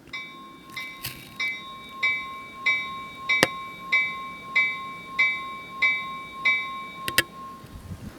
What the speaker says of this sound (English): this is the cast bell that I have installed here